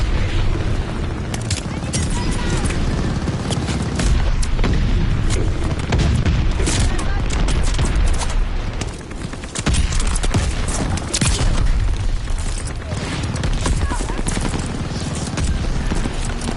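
In Call of Duty Vanguard, heavy booms of mortar and bomb explosions pound repeatedly amid dense gunfire bursts, a loud, chaotic battlefield din with game voice callouts mixed underneath.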